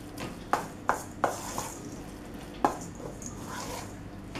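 Spelt bread dough gets mixed in a bowl, with a few distinct knocking strokes of the utensil against the bowl over a soft, continuous background rustle.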